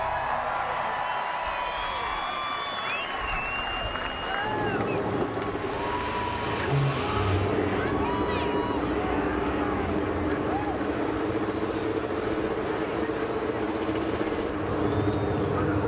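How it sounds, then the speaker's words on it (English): IndyCar race car engines cranking to life at Richmond International Raceway in 2006, a sustained loud mechanical roar that builds after a few seconds and holds steady, with a crowd and announcer-style voices faintly underneath. "We're cranking the engines early because we have threatening weather in the area."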